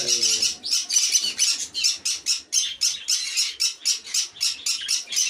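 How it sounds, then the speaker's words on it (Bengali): Budgerigars kept for sale call and squawk continuously, a dense, loud flock of rapid, rhythmic chattering chirps close by. "এখানে জেটি বদ্রি আছে সেল করার জন্যে, দেখতে পাবেন ভালো ভালো জেটি বদ্রি আছে"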